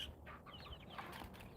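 Chamanis chickens cluck faintly in a short, soft stretch of low calls against quiet background noise, with no talking.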